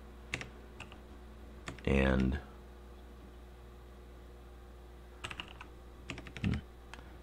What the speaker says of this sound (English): nice thing about dmenu is I can start typing